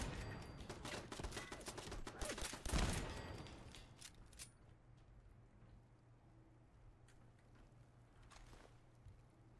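Turret gunfire in Fallout 4 erupts as a dense, loud burst of rapid shots, then breaks off after a few seconds and leaves a faint, quieter backdrop with scattered small clicks.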